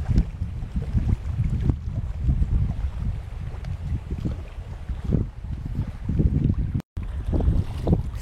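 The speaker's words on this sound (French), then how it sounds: "Ce qui n'était qu'une brise est en train de devenir du vent." Wind gusts buffet the microphone outdoors on a camping trip, a continuous loud low rumble that swells and eases, with one brief dropout near the end and no voices.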